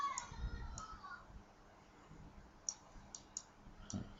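Computer mouse clicks while selecting and moving vertices in 3D modeling software: about seven faint, crisp clicks come singly and in small clusters at irregular intervals over near silence.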